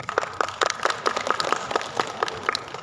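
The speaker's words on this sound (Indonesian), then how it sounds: "Tepuk tangan untuk alumni kita." An audience at a regional association gathering in North Sulawesi claps for alumni. The applause is sparse and close, with distinct individual claps in an uneven rhythm.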